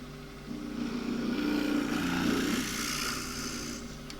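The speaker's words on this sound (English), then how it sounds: "It's a 3/8 gouge just to get a hole started for the depth." A 3/8 gouge cuts into green elm on a lathe while the small pot spins, giving a steady, fairly loud rushing, whirring scrape that holds throughout with no talk.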